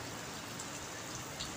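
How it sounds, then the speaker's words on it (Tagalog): Heavy rain falls steadily outdoors, a continuous even hiss of drops on surfaces, fairly distant and soft, with no voices. "Yan ang lakas na naman ng ulan."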